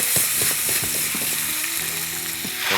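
Fregola pasta hits hot fat with onion in a pan, a steady broadband sizzle with scattered clinks and scraping taps throughout, close and fairly loud, no voices.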